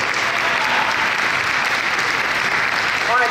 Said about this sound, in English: let's give Mary a big round of applause